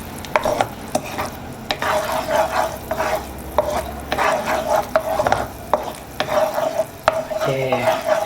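Fresh milk hitting hot caramel in a pan for caramel popcorn, followed by steady stirring strokes over a loud, close sizzling bubble that continues throughout.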